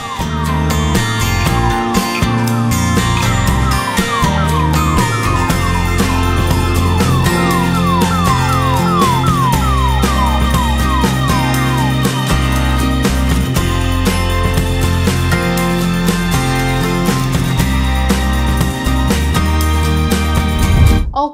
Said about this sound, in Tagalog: Daming ambulansya.